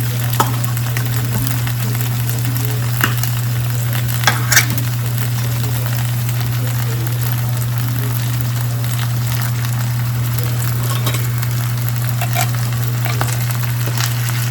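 Canned vegetable beef soup is stirred around in a frying pan over a steady sizzling hiss, with a constant low hum underneath and occasional soft scrapes and clicks of the utensil.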